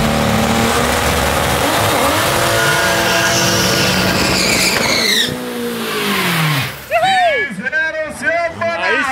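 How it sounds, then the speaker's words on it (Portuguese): Turbocharged, fuel-injected 4.1-litre six-cylinder Chevrolet Opala at a drag-racing event, engine roaring and revving hard with rising pitch, then sharp staccato throttle blips and pops near the end, loud and close. "Vamos filmar e ver o carro acelerando."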